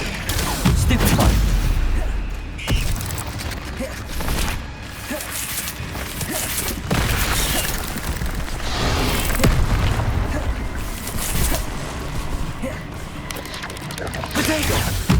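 Spell-casting combat in Hogwarts Legacy on PS5: loud magical blasts and booming impacts burst repeatedly, one after another, over a dense rumbling game soundscape with no pause.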